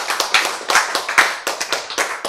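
Churchgoers at a Bible lecture clap their hands sharply and close to the microphone in a quick, irregular rhythm with no voices.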